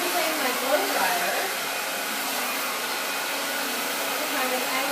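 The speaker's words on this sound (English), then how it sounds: "And I'm using my blow dryer" Close, continuous roar of a blow dryer, a steady rushing hiss that barely changes over several seconds.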